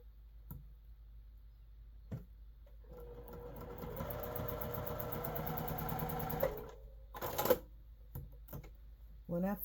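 A sewing machine piecing a quilt block runs in one continuous stitching burst of several seconds, moderately close, bracketed by quiet handling clicks.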